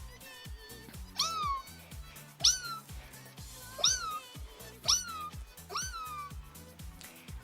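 A woman imitates a cat with her voice, making five drawn-out, whiny meows at steady intervals over a rhythmic background music beat.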